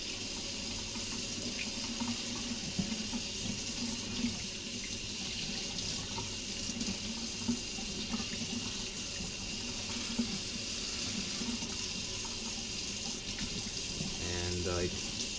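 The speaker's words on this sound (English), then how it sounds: "I'm just gonna dump them and then rinse this off" Water runs steadily from a tap while bottles that held year-old flavor extracts are rinsed in a sink, a continuous close hiss with faint clinks near the end.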